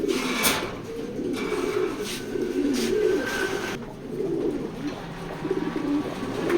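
Racing pigeons in a loft cooing softly and steadily, with a few brighter calls over a continuous murmur of birds nearby; no one speaks.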